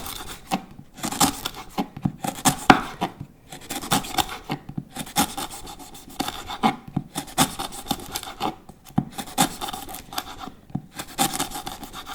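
A knife chops peeled lemongrass into pieces on a board, with quick rhythmic bursts of crisp, fibrous cuts in clusters separated by short pauses, close and clear.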